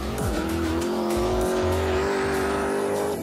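A 1000 hp BMW 3 Series drifts at high speed, its engine holding a loud, steady high-pitched whine while the tyres squeal and hiss throughout, close and continuous.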